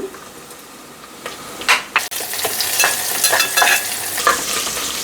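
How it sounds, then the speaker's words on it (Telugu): Green chillies frying in hot oil in a pan, with a steady close sizzle and crackle, occasional stirring scrapes, and the sizzle swelling after a brief clatter. "ఈ ఆయిల్లోనే పచ్చిమిర్చి ఉడకాలన్నమాట"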